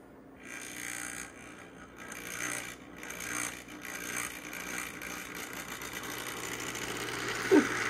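A band-drive model locomotive runs along the track with a soft mechanical whir and rhythmic ratcheting clicks, fairly faint and uneven, and a brief sharp knock near the end.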